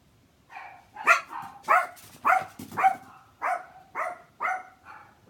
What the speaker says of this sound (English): I'm not sure why the dogs are going bananas again.